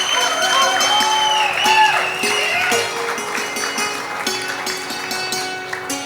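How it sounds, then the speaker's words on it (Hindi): Audience applause and cheering at a live Kashmiri folk instrumental concert, a steady crowd clapping throughout with scattered whoops, while tonal instrument lines sustain and slide above it. "और ये हम आज इसके लिए तालियां जरूर बजनी चाहिए और जोरदार।"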